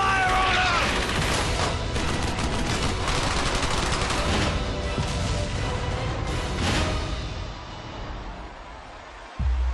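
Heavy gunfire from the World War II shooter Brothers in Arms: Hell's Highway: dense, continuous bursts of rifle and machine-gun fire with booming impacts, loud and close throughout, ending in a sudden cut.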